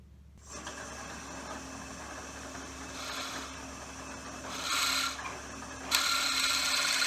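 Steady mechanical whir of a drill running continuously, with brief louder bursts as the bit bites into pen blanks held in a jig; no talking.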